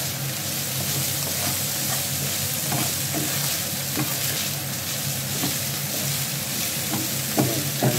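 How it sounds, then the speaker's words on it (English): Diced pork chop seasoned with salt and pepper sizzles steadily over high heat, with frequent stirring clatter and scraping breaking through a dense, continuous frying hiss, close up with no voices. "turn the heat up again and fry them"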